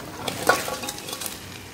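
Crab going into frying masala for a crab gravy, a short burst of sizzling with a light clink of a utensil against the pan, close and brief.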